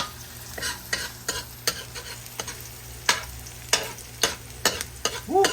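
Finely minced garlic sautéing for Filipino pochero, with a steady low sizzle under repeated sharp scraping stir strokes of a utensil in the pan, close and alone with no talk.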